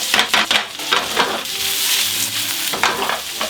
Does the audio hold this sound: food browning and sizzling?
yes